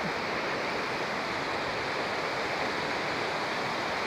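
Steady broadband rushing of flowing water, constant and close with no pauses, like a stream or small fall; no voices.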